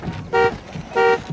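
A car horn sounds two sustained honks in a row, each about a quarter second, loud and close, with quieter background noise between them.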